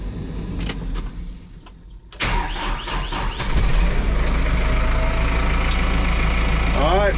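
John Deere tractor engine cranking weakly and then catching, the engine noise rising into a loud steady idling rumble close by, with people talking over it.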